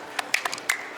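A few scattered hand claps from a small tour group in Florence, Italy, sharp and close, spread unevenly across a single second with no talking.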